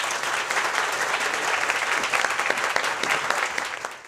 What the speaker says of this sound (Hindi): एक बार जोरदार इस कलाम के लिए ताली बजाएंगे.